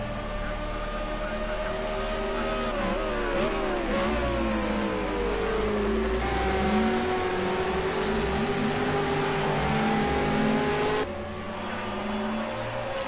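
V8 Supercars race through Chapel Curve at Silverstone, engine notes rising and falling as the cars sweep through the bend and shift gears, a steady loud drone throughout with a sharp cut near the end.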